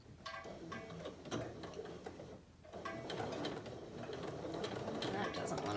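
A sewing machine back stitches fabric for palazzo pants, a faint, quick mechanical clatter of needle and gears running continuously at low level, with a voice talking over it.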